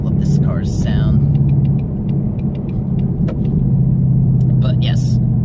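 A Shelby GT500 engine rumbles low and steady throughout, with a few brief higher-pitched bursts rising above it.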